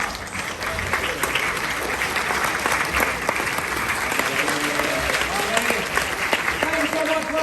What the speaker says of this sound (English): how about a nice round of applause for the host of today's show,